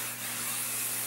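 A steady, close hiss of hair shine spray from an aerosol can runs for about a second, even and unbroken, with a faint low hum beneath.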